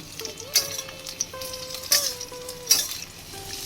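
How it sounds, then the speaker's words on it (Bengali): Pointed gourd and potato pieces frying in a pan, a soft sizzle under a few sharp spatula scrapes and clinks, close and fairly quiet, with faint tonal background sounds and no talking. "এবার পটলগুলো দিয়ে দেবো প্রথমে পটলগুলো একটু বেশি সময় ভাজবো"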